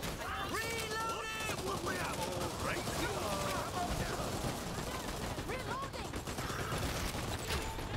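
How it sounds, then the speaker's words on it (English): Rapid gunfire crackles in the online shooter Dirty Bomb, dense bursts layered with mechanical clatter and game effects, continuous and fairly close, with voices talking over the action. "Are they shooting through the walls?"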